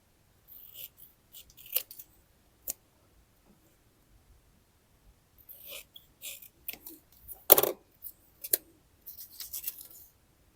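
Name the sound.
cutting paper square with scissors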